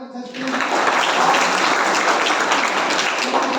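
A crowd breaks into sustained applause for children at a Jeevan Vidya camp, a dense wash of clapping that starts abruptly and carries on loudly throughout.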